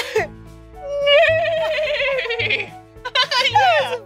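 A child imitates a horse's neigh with a long, wavering, high-pitched vocal whinny, followed by a shorter second burst, heard close and loud at a theme park.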